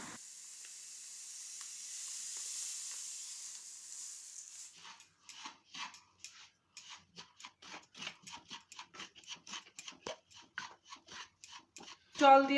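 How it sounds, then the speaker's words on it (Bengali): Semolina toasts in ghee in a wok, opening with a soft steady sizzle, then giving way to a long run of rhythmic scraping strokes as a spatula stirs the grains, ending with a louder scrape. "সুজিকে অল্প করে ভেজে নেব।"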